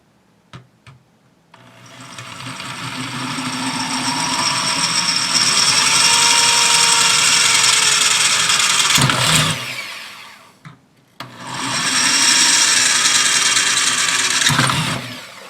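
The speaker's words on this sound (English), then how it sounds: "Do not drill anywhere but this area where the rivets are, in line with the rivets." A power drill whines steadily for several seconds while drilling into a metal rifle receiver, pitch shifting slightly as it bites, then stops and runs again in a second shorter burst.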